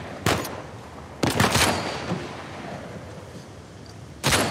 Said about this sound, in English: He's jumping and shooting at the same time.